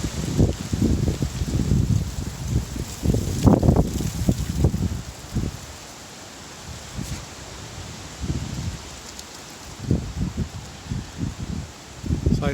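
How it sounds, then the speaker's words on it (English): Strong wind gusts blowing outdoors on a high-wind May day, a steady broad rushing that swells and eases in bursts, rustling nearby foliage, loud and close with microphone buffeting. "I saw this wind coming."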